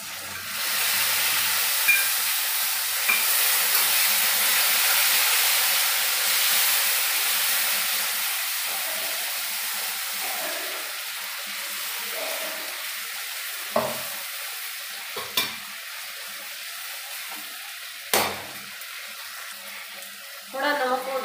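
Beetroot chutney with salt and chopped cashews sizzles in a pan over medium gas, a steady bright crackle that slowly fades, broken later by a few sharp clicks of a utensil against the pan.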